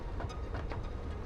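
A train runs steadily in the Satisfactory video game, a continuous rolling rumble with a faint rhythmic clatter of wheels on track and no pauses.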